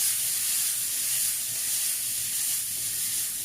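Vegetables softening in hot oil for a chicken, bacon and leek pie give a steady, close, broadband sizzle that holds even and unbroken throughout, with no voices.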